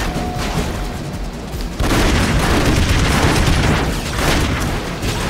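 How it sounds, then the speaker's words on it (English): A suicidal exploding enemy in Broforce blows up in a loud, close blast, followed by dense crackling pops and further bursts of chaotic game noise. "Watch out for the exploding guy."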